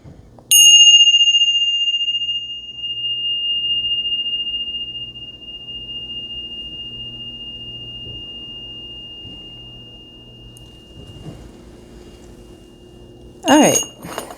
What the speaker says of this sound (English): Let's ring the bells.